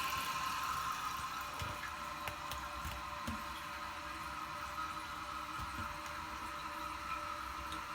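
A Members Mark toilet refilling after a large flush, water rushing steadily into the tank with a constant hiss and faint gurgles, close by and with no talk.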